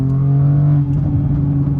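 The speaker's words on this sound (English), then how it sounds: "There's a burble for you." A loud, steady BMW M4 or M3 engine rumble with a low, throbbing sport-exhaust burble that dips slightly partway through, with no talking.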